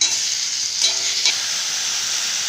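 Tomatoes are added to a masala frying in oil, and the pan keeps up a steady close sizzle with a couple of stirring scrapes, with no voices.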